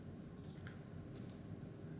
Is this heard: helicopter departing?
no